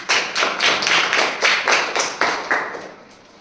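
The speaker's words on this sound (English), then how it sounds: "Clap for them." A class of pupils clapping together in rhythmic unison, about a dozen sharp bursts in steady beat, close and loud, then tapering off at the end.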